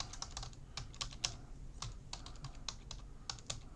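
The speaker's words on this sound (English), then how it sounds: "You can just go to Gemini and type in the prompt." Fast typing on a computer keyboard, a close, quiet run of irregular clicking keystrokes with short pauses and no voices.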